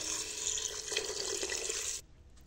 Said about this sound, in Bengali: এবারে দিয়ে দেবো পরিমাণ মতো পানি